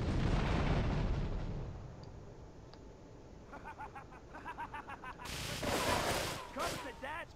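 Vans blow up in Grand Theft Auto III, a loud explosive roar at the start fading into rumble, followed by a string of pulsing pops and another heavy blast, with a voice speaking partway through.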